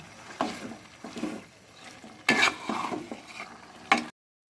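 Meat pieces tipped into a pot of fried spice paste, giving several bursts of stirring, scraping and sizzling that come close together, with no voices.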